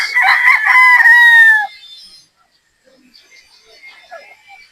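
A stag gamefowl with a straight comb crows once, loud and close, a drawn-out call that ends abruptly and leaves only faint background noise.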